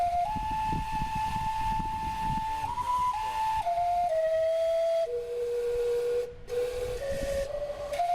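The steam clock at the Indiana State Museum in Indianapolis sounds its whistle, a sustained hissing whistle that steps through several pitches like a tune over a steady steam rush, close and clear.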